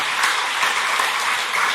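A church congregation claps in encouragement during a Sunday service, steady dense applause filling the room at close range from start to finish, with no voices over it.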